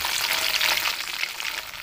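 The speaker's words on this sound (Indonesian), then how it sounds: "Nih, kita goreng, cuci dulu yang bersih," Chili, tomato, shallot and garlic fry in a pan with a steady, loud, close sizzle and crackle that runs unbroken throughout, with no voices.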